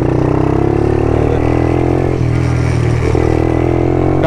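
A 125cc ATV engine fitted with a free-flow exhaust revs loudly and continuously up close, a steady buzzing drone with slight shifts in pitch and no speech.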